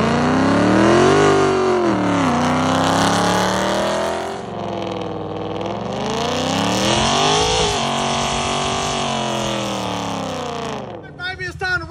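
A car doing burnouts revs its engine loudly in long sweeping pulls that climb and fall over about eleven seconds, close and dominant, and the sound cuts off abruptly at the end.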